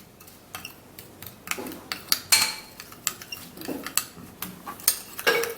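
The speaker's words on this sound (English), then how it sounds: "we're gonna give it just a little stir" A spoon stirs a mixture of Colgate toothpaste and onion in a bowl, giving a series of close, sharp clinks and scrapes at irregular intervals, with no voices.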